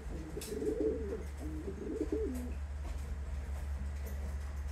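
Young racing pigeons in a loft coo softly in low, wavering, throaty phrases. A steady low hum runs underneath, and faint clicks and shuffling sound nearby.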